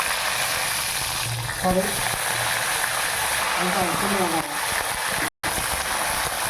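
Groundnut oil sizzles and hisses steadily as fenugreek, mustard seeds, urad dal, cumin and dried chillies are tempered in it, with soft crackles and pops under a person talking.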